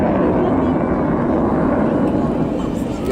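An aircraft flying aerobatics at an air show makes a loud, continuous engine roar that stays strong for the whole short stretch, with a commentator talking over it.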